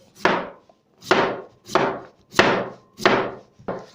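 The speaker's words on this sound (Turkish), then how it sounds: "Öncelikle kızartmalık patateslerimizi doğrayarak başlıyoruz." Knife chopping potatoes on a wooden board, six firm thuds at a steady pace about two-thirds of a second apart, close up with no voices.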